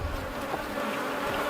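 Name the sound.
bees buzzing at a hive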